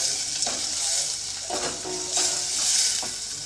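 Onion and garlic fry in a pan for dal, a loud close hiss that swells and fades as a spoon stirs through them with a few soft scraping knocks.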